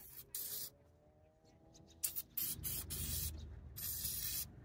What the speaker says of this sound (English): What I'm doing is just spraying all the springs and all the mechanical stuff, so it will be, so it can move freely.